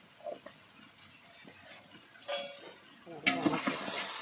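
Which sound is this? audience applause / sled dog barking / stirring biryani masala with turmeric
stirring biryani masala with turmeric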